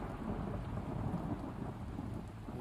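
Rumbling thunder from a lightning strike over the sea in an anime, a low continuous roll mixed with rain-like hiss, moderately loud and sustained.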